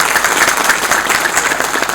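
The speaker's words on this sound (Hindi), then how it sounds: "या तालियां बजाओ सर" An audience at a public meeting about the Uttarakhand film industry claps in a dense, continuous burst, the applause filling the room evenly throughout.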